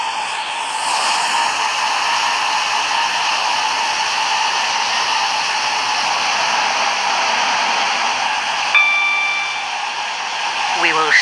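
A train in the video game Stepford County Railway runs along the longest route, giving a steady broadband rumbling hiss with a brief chime-like tonal ding near the end, alone with no talk.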